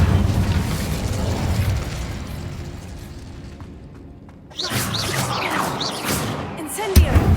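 An Incendio fire spell in Hogwarts Legacy ignites with a sudden whooshing burst of flame after a low rumbling lull, followed by crackling fire and game effects.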